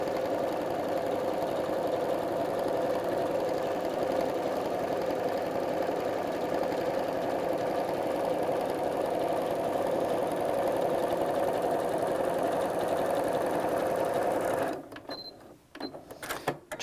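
A sewing machine stitches quilt blocks in a steady, continuous mechanical whir with a rapid needle rhythm, running close and loud for about fifteen seconds before it stops, followed by a few faint handling clicks.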